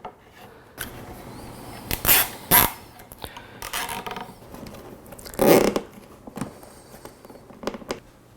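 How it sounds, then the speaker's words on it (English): Zip ties are pulled tight to secure a drop-down power station tower to a ceiling, several short sharp ratcheting zips in irregular bursts close by, separated by quiet handling noises. "I'll just tie this up here with some zip ties."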